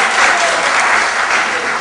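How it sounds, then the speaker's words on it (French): Audience applause at a film premiere in Chicago, steady dense clapping filling the room, loud and close, with no voices over it. "On l'applaudit."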